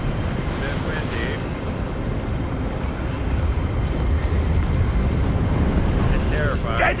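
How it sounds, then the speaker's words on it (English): Wind gusting in a Hogwarts Legacy game scene, a continuous rushing roar that swells slightly midway, with faint voices murmuring briefly. "Bit windy."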